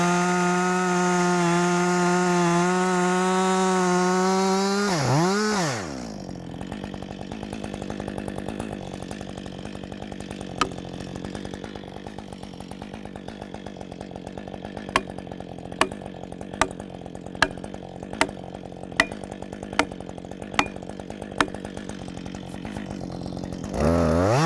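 A chainsaw screams at full throttle while cutting a tree being felled, then drops to a low idling rattle, with a series of sharp clicks and knocks as the cut finishes.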